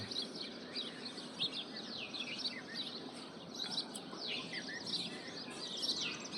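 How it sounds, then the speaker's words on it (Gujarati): Many sparrows chirping busily in the morning, a continuous high twittering chorus with no one talking. "સવારનું વાતાવરણ એ ચકલા બોલે છે"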